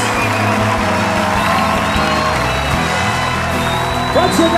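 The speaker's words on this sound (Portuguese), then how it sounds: "Se isso alegra o seu coração, meu irmão, aplauda Jesus" Church congregation at a Christian youth conference cheering and applauding as one continuous crowd roar, loud and dense throughout, with a voice rising briefly near the end.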